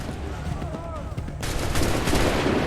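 A massed musket volley from a line of soldiers in Assassin's Creed 3, a dense burst of overlapping shots that swells into a sustained loud crackle after a quieter stretch of battle ambience with faint voices.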